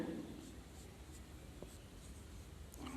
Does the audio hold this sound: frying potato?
no